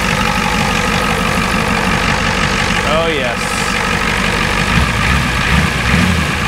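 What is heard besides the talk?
pickup truck engine idling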